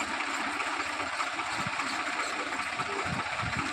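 A tractor engine runs steadily while spraying pesticide, a continuous close mechanical hum with faint rhythmic knocking and no talk.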